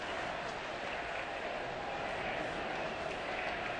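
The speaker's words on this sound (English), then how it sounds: "What a boisterous crowd here." Baseball stadium crowd at a Minnesota vs Toronto game, a fairly faint, steady wash of applause and crowd murmur heard at a distance with no clear peaks.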